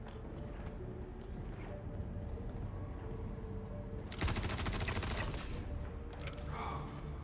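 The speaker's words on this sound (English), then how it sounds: "They're shooting at us!" Gunfire in the video game Star Citizen, a rapid automatic burst rattling loudly for about two seconds after a stretch of busy ambient game noise, with voices shouting nearby.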